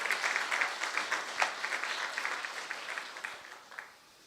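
A church congregation at an early-morning prayer service applauds its ministers after a special song; the clapping is soft and somewhat distant, lasts a few seconds with brief swells, then tapers off.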